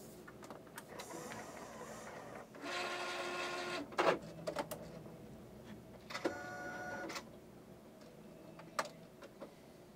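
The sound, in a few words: Epson Stylus Pro 3880 printer being switched off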